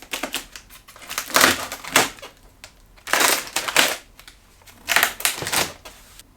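Rapid crunching snips of scissors in three clustered bursts as packaging tape on an Echelon exercise bike box is cut, close and fairly loud, with quiet gaps between.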